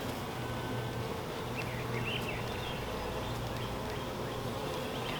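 Honeybees buzz around a newly established hive opened for inspection, making a steady, fairly faint hum with occasional higher passing buzzes of individual bees. There is no speech.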